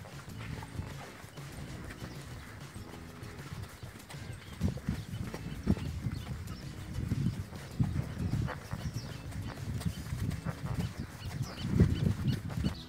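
Horses walk on firm ground at a show-jumping and barrel-racing stud farm, their hooves clip-clopping in a loose, uneven rhythm that rises and falls in loudness, with faint farm background sounds.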